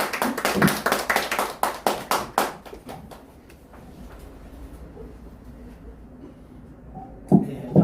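A small audience at a Korean business academy opening ceremony claps in welcome, several loud rhythmic claps in a row that quickly thin out into quiet room murmur, with a brief sound near the end.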